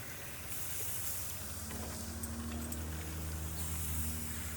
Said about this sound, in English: Gotta like that sizzle.